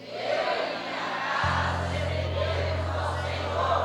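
Church congregation shouting together on cue, a loud crowd roar of many voices rising and holding, with a steady low hum from the sound system underneath.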